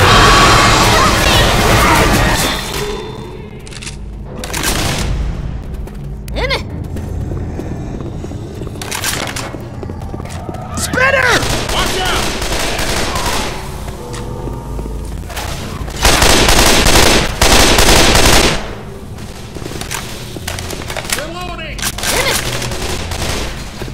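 Rifle gunfire from the video game Left 4 Dead 2, on the Dead Air campaign, comes in loud bursts of shots and booms, with stretches of talk and game voices between them.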